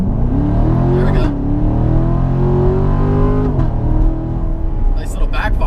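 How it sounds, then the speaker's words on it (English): Corvette Grand Sport engine revving hard under full acceleration, a loud, sustained harmonic roar that climbs, drops briefly and climbs again, with a sharp crackle near the end that fits an exhaust backfire. "Nice little backfire there."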